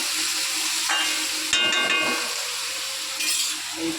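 Onion frying in hot oil in a home kitchen, a steady broadband sizzle with occasional clinks and stirring sounds, close and continuous.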